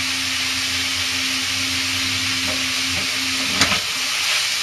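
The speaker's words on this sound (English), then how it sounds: "you'll probably hear it's actually quite dry on the bottom now, so it's all beginning to singe just a little bit" Alambre with bacon sizzles in a very hot pan, a steady broadband hiss with a steady low hum beneath it and one brief sharp crackle near the end, no talking.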